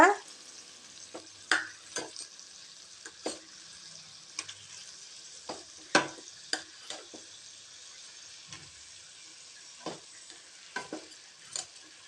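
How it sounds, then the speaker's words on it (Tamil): Cooked rice for lemon rice is stirred and loosened in a pan. A spoon scrapes and taps against the pan at irregular intervals, quiet and close, with no talking. "இப்போ சாதத்தை நல்லா உதிர்த்து விட்டுக்கலாங்க."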